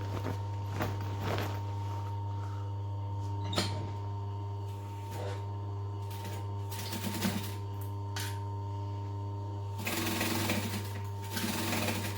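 A sewing machine stitches the closing seam of a tote bag, its steady mechanical hum running the whole time, broken by bursts of faster stitching and small handling clicks, close and moderately quiet.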